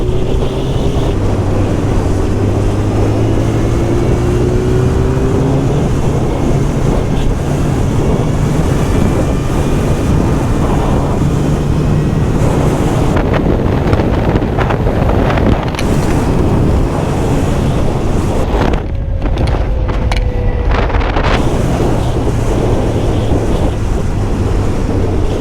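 Strong wind roars steadily against the microphone with a 1999 Honda CBR900 Fireblade engine droning underneath on a highway, a continuous rushing noise with no talking.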